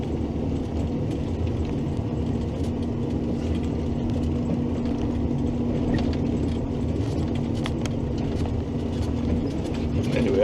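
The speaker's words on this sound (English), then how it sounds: "let you guys enjoy the sound of the machine and the tractor" A tractor with a snow plow attachment runs steadily with a droning engine hum and intermittent mechanical clicks and rattles, heard up close with no talking.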